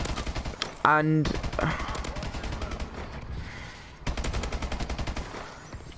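Rapid automatic gunfire in a Call of Duty gunfight, sustained bursts of evenly spaced shots with a brief pause mid-clip, loud and close, with someone talking over it.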